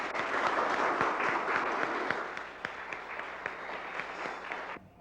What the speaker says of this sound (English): Let's have a lusty round of applause